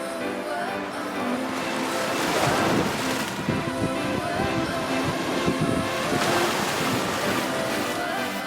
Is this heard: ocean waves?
yes